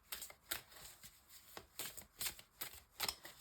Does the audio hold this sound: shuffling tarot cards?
yes